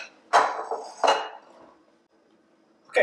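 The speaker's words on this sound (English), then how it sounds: "I'm using a spoon to dig into the flesh just a little bit." A spoon scrapes and knocks against roasted spaghetti squash while seeds and pulp are scooped out, giving three sharp, close clunks with short scraping tails and quiet gaps, no talking.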